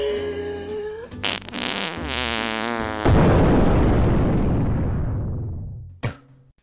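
A fart let out while blowing out birthday cake candles, a loud close rasping blast followed by a long fading breathy rush, with a short pop near the end.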